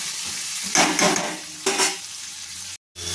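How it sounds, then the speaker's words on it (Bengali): Onions frying with salt in a pan for fried chicken biryani, a loud close hiss with a couple of stirring bursts and a brief cut near the end. "এবার আমি পেঁয়াজটাকে ভালোভাবে ভেজে নেব।"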